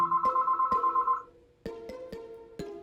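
Incoming-call ringtone on a phone paired with EarFun Air Pro SV ANC earbuds, a bright repeating melodic tone that pauses briefly and then resumes with sharp plucked notes, heard alone and clear.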